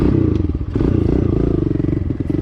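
A Kawasaki KLX 110L dirt bike engine revving in third gear, close and loud, with a steady choppy putter that dips briefly before picking back up.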